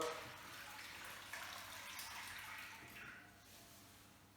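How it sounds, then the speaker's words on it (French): Liquid homemade soap poured and strained through a large kitchen colander, a steady wet splashing and trickling that runs continuously and fairly softly, close by, with no talking. "je vais filtrer dans une grosse passoire"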